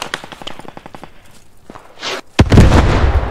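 An explosion from a destroyed tank in the World War II shooter game Post Scriptum, a heavy close boom breaking out suddenly after scattered earlier shots and rumbling on loudly to the end.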